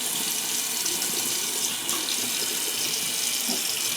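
Hot water pours steadily from a tap into a bathroom sink, a close, even rushing stream with no pauses and no voices.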